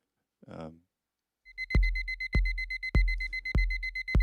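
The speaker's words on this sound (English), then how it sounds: "So there's the alarm sound right there." After a brief vocal sound, an electronic alarm clock beeps in a steady, evenly spaced pattern, loud and close, five shrill tones in a row.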